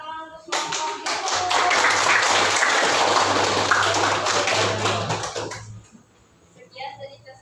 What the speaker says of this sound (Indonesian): Beri tepuk tangan untuk kelompok biru.